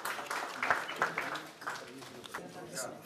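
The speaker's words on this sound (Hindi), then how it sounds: "साहब, भरपूर तालियों में" Applause from a live audience at an Urdu poetry mushaira in Willesden Green, London, a dense patter of clapping that peaks early then thins out over about three seconds, moderately loud and heard on its own.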